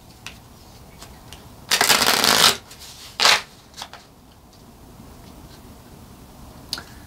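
Tarot cards are shuffled by hand: one long riffling burst, then a shorter one, followed by a few soft card taps in an otherwise quiet room.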